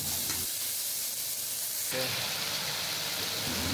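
Vegetables sauté in a pan with turmeric and salt, a constant hissing sizzle that swells louder partway through and carries a faint stirring underneath.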